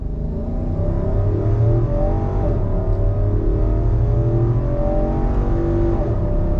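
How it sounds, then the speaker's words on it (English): A 2022 Infiniti QX80 luxury SUV with a 7-speed automatic accelerates on throttle from a stop, a steady engine drone that rises in pitch and then drops briefly at a smooth upshift, heard from inside the cabin without talk. "we're gonna do another on-throttle acceleration."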